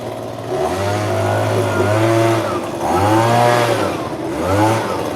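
A leaf blower runs outdoors, its motor droning loud and close in repeated surging pulses that rise and fall every couple of seconds.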